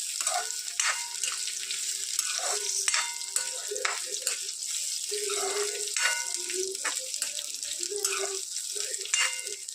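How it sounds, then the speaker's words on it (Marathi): Bitter gourd (karela) pieces fry steadily in hot oil with a continuous sizzle, broken by occasional stirring clinks and light knocks against the pan, heard up close. "याला तेलामध्ये चांगलं फ्राय होऊ दे"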